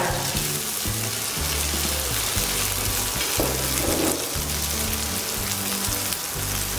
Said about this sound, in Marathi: त्याला लो फ्लेमवरतीच छान मस्तपैकी फ्राय करायचं आहे कारण की ते लो फ्लेमवरती स्टीमही होतील आणि छान फ्रायही होतील